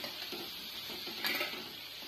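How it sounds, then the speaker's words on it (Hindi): Coriander powder and spices are stirred in a cooking pan for dry potato and spinach sabzi, with faint, soft scraping and light sizzling from close by. "अब सब चीजों को मिक्स कर देंगे"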